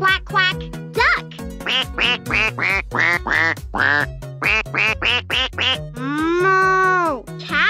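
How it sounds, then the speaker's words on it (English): A Fisher-Price Laugh & Learn Silly Sounds Light-Up Piano plays a series of bright, nasal duck quacks in quick succession over plinking toy piano notes, ending in one long drawn-out quack. "Quack, quack, duck."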